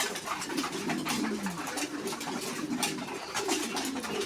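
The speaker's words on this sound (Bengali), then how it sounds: "লাহোর কবুতরটা আমার খুব পছন্দ।" Lahore pigeons cooing steadily at a fancy pigeon market, soft throaty coos repeating under constant background bustle and chatter.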